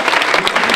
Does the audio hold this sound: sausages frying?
no